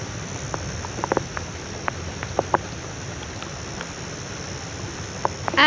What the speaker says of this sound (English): And the rain has come